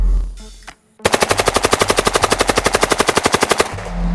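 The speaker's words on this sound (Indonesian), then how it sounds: "HK-UMP juga mampu menyeburkan peluru dengan rata-rata tembakan hingga 650 butir peluru per menit" HK UMP submachine gun fires one sustained full-auto burst of about thirty rapid, evenly spaced sharp shots lasting under three seconds, loud and close, after a brief quiet moment.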